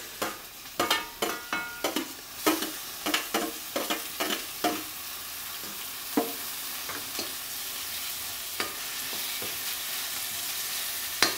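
Tomatoes and onion sautéing in oil over a wood-fired stove, a series of sharp rhythmic spatula knocks and scrapes at first, then a steady close sizzle with occasional clicks.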